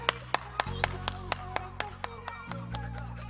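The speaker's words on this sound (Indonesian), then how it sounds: "Tepuk tangan dulu buat kalian." Around a dozen sharp, evenly spaced claps, like hands clapping in a quick steady rhythm, sound close and crisp over a low steady background hum.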